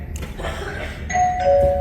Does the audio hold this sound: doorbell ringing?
yes